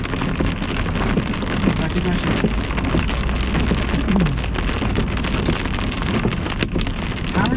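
Hail pelts a car during a storm-chase intercept of a hail core, a dense, loud, steady clatter of hard impacts with rushing wind noise throughout, and a voice briefly speaks over it.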